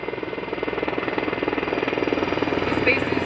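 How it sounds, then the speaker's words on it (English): S-61 helicopters working at a fire retardant base during a wildfire, a loud continuous rotor thump and turbine roar pulsing rapidly and growing slightly stronger. "We have the S-61 that are dipping out of the retardant tank just behind my shoulder and taking it to the fire where it's needed."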